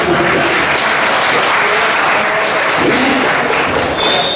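Loud, continuous applause from an audience at a Cameroonian debate hall, greeting a cheikh with dense clapping that holds steady throughout.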